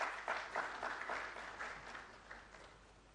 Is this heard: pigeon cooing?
no